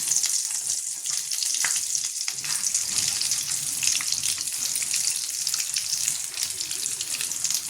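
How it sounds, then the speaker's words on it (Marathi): Vada pav fritters frying in hot oil in a home kitchen, giving a loud, continuous bubbling sizzle at close range with faint scraping and no talk over it. "मस्त तळते वडापाव, झाले आता करून छानपैकी."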